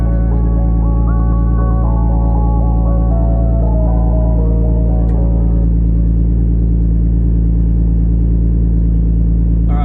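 Steady, loud idle of an LS V8 swapped into a Nissan R33 Skyline, running with no load and holding a deep, even rumble throughout with a brief faint whine near the start.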